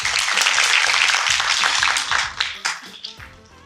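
An audience claps in welcome for lawyer Ahn Ji-young at a tax seminar, a dense burst of applause that stays steady before thinning out and fading over the last second.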